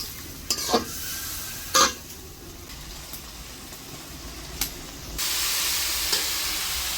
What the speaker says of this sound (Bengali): এখন আমি মশলাটা ভালো করে কষাবো।